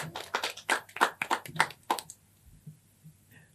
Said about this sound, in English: let's give a big round of applause for Afgan.